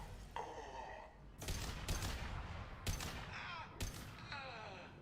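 Gunfire in the Mass Effect video game: several loud bursts of shots in quick succession, each blast followed by ringing, metallic echoing tails.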